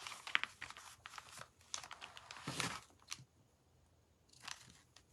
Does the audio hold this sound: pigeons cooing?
no